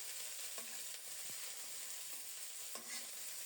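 Cabbage frying in mustard oil, a steady sizzle running throughout with several brief spoon-stirring scrapes breaking in at intervals, close and moderately quiet with no talking.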